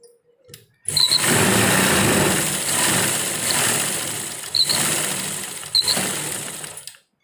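A sewing machine stitches a kurti seam close by, running in one steady, buzzing whir for about six seconds with a couple of brief hitches before stopping.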